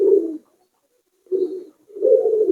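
Pigeons coo close by in low, throaty rolling bursts, one short call followed after a pause by a longer one.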